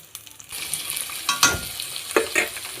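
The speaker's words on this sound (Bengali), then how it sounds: "আর মটরশুঁটি দিয়ে এখন ভালো করে একটু ভেজে নেব" Onion, green chili, chopped carrot and peas fry in white oil in a pan, a steady crackling sizzle broken by louder bursts as the vegetables are stirred, close and alone.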